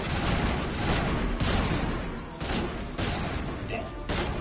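Dense gunfire from Geth enemies in the Mass Effect video game, a continuous crackling barrage with bursts and crashes filling the short stretch, under a voice talking.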